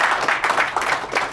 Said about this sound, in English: You guys don't have to clap after I speak.